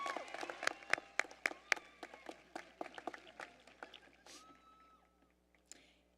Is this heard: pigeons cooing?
no